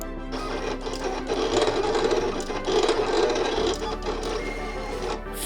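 Vinyl printer running steadily and close up while printing graphics for glass etching decals, a continuous mechanical whir with faint rhythmic clatter and a low hum beneath, no talking.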